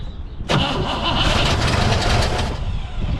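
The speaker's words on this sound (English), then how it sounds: "it sure seems like the car runs to me" 1963 Pontiac Catalina, hot-wired through the distributor, cranks briefly and then fires into a loud, rough catch that settles into a steady idle, close up and with no talk over it.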